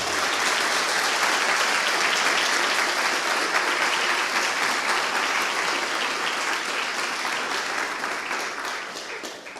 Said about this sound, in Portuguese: Você pode aplaudir o seu Deus bem forte?